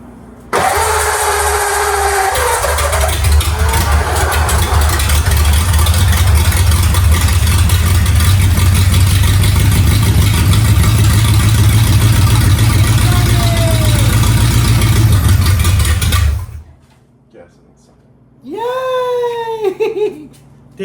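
An old flathead engine cranks and fires, then runs loud and rough for about fifteen seconds before cutting out, followed by excited voices and a cheer.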